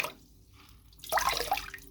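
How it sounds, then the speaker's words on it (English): Water drips and trickles from a soaked cloth as it is gently squeezed, a quiet pause followed by a burst of splashing runoff over the last second, close and alone. "Try to get as much of that water out as you can."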